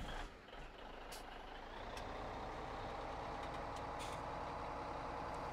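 A truck in Farming Simulator 17 backs up under a steady engine drone, with a few intermittent reversing beeps over the rumble.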